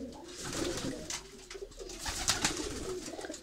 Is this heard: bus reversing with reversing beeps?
no